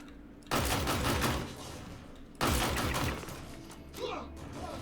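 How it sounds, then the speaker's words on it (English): Pulverizer LMG firing in the Star Citizen video game: two loud bursts of heavy automatic gunfire with a gap between them, each trailing off, followed by a softer sound near the end. "This is the most OP gun right now in Star Citizen, no question about it."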